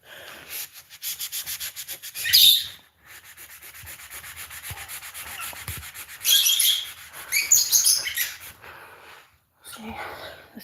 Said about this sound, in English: They'll come out with the magic eraser.